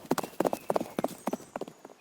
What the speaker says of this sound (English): There is no stopping this gallop.